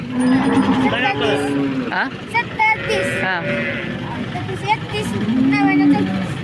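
Cows lowing at a busy Modnimb cattle market in Solapur, several drawn-out moos rising near the start and again near the end over constant crowd chatter and someone talking.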